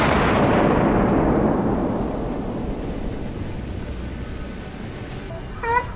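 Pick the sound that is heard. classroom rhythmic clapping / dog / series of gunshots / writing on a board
series of gunshots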